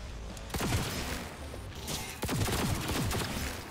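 Enemy gunfire in Cyberpunk 2077 crackles in rapid bursts through walls, dense volleys close and loud over a rumbling background, with a short lull before a second barrage.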